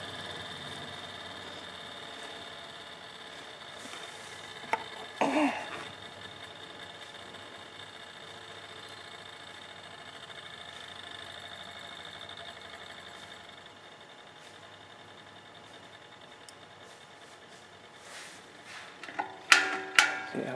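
A Sorvall GLC-4 general lab centrifuge running down, a low steady motor hum and faint whine broken by a few brief clunks early on and a cluster of sharper knocks near the end, with no voices.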